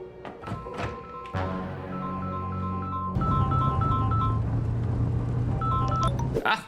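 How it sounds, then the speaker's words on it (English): A phone ringtone from a horror film plays a repeating electronic melody of short bright tones, starting after a few knocks and layered over a low hum, fairly loud. "That's the same ringtone that plays when Ghostface calls Sheriff Judy"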